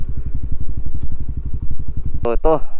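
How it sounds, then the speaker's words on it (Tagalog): A motorcycle with a remapped ECU idles close by in a steady, even low pulse, and near the end a person briefly speaks over it. "So ito yung motor natin na naka-remap."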